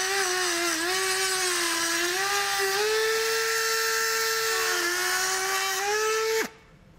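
A high-pitched rotary cutting tool whines steadily, trimming plastic flaps on a 2019 Ford Explorer during a base plate installation. The pitch wavers slightly as it bites, then cuts off abruptly near the end.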